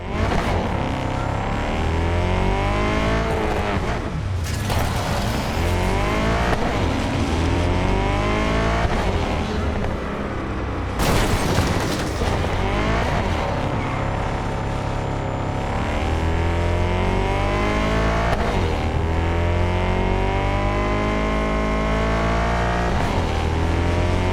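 Continuous in-game car engine in Cyberpunk 2077, droning and shifting pitch as it revs through gears, loud and close throughout with a couple of brief sharp bursts.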